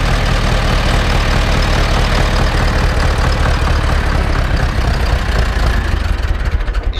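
A cold Ursus C 360 tractor engine idles just after start-up, a loud, steady, deep rumble with a constant chugging beat and no voices throughout.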